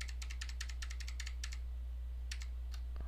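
A computer keyboard is tapped in quick bursts of light key presses while trimming a clip in Final Cut Pro, then a pause and a few more taps, close and fairly quiet.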